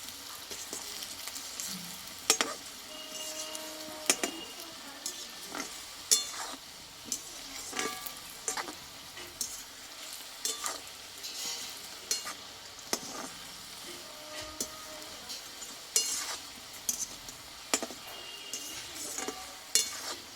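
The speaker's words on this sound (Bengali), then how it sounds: "এই পুলিগুলো আমি দুই থেকে তিনবারই ভেজে নেবো" Bengali puli pitha frying slowly in hot oil, a steady close sizzle punctuated by frequent sharp clinks and scrapes of a metal utensil turning the pieces, with no voices.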